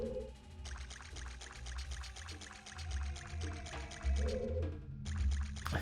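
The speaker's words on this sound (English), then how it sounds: "feel like there should be a way for me to get this water to stop flowing through." Flowing water in The Legend of Zelda: Ocarina of Time, a continuous rushing pour in the game's soundscape with a low rumble underneath and a rhythmic pulsing texture throughout.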